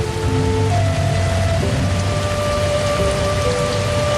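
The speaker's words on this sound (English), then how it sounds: "The rain continues to fall, as it always has, as it always will." Steady, dense rain falls on a treehouse in the Costa Rican rainforest at midnight, a continuous loud wash with no talk, with faint sustained tonal hums running beneath it.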